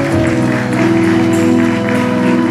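Wedding guests applaud the best man and his wife at a Bulgarian celebration, loud clapping mixed with festive music in the background, continuous through the moment.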